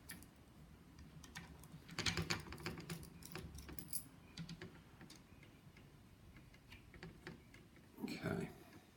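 Small Phillips screwdriver working the motor screws of an HK416D, giving light ticking clicks and scrapes of metal on metal, close up, with someone talking over parts of it.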